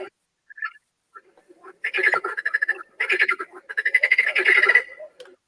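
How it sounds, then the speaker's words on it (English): Frogs croak near a pond in loud, close, rapid bursts, with a couple of faint early calls building into three dense rattling choruses. "I used to love the sound of hearing frogs and bullfrogs and tree frogs"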